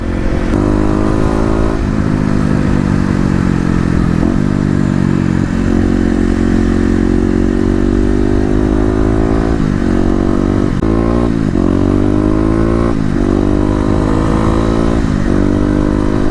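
Kawasaki KLX250 dirt bike engine on a test ride, loud and close, revving up through the gears with rising pitch and brief dips at each shift, sustained for the whole stretch with no talking.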